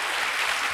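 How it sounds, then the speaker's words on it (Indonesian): Church congregation clapping during a Sunday service, a brief dense wash of applause, steady and fairly full. "tepuk tangan buat Tuhan"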